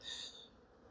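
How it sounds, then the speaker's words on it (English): Honey bees buzz in an open hive, a faint steady drone that swells briefly then eases over a quiet outdoor background, no one speaking. "As you can see, the bees are filling all the frames, and that other one is especially strong."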